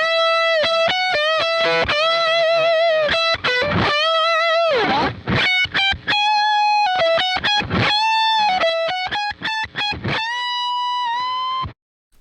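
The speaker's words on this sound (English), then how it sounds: "The amp was already overdriven some, and I used the Swindle to boost it even more." An electric guitar plays heavily distorted notes and short phrases through an already overdriven amp pushed harder by a Swindle distortion pedal. The tone is loud, saturated and sustained, with brief gaps between phrases.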